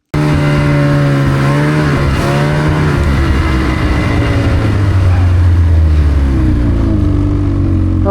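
A snowmobile rides along a hard-packed snow trail, its engine a loud, close, continuous drone whose pitch climbs and dips as the throttle changes, with no talking.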